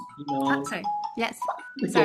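An iPhone left off silent mode chimes a short two-tone notification, clear and close, cutting in between bits of a person's apologetic talk.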